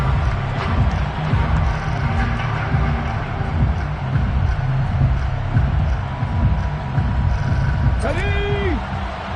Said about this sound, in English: now the home team crowd, they are fired up